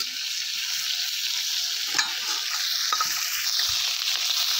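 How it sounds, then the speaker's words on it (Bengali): Steady oily sizzling of kuche fish (eels) frying in a pan, with occasional light scrapes and taps from a spatula stirring it. "এই যে মাছগুলো আমি ভেজে নিচ্ছি"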